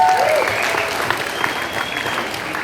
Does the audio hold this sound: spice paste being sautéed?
no